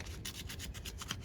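A vehicle wheel is sanded by hand with sandpaper, giving a short burst of quiet, rhythmic scratchy rubbing strokes close by.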